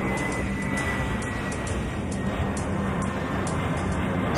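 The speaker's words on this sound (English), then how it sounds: "Slamjet 481, cleared immediate takeoff." An airliner takes off in the Airport Madness 4 air traffic control game, a steady, loud broadband jet roar that holds constant throughout with no talking.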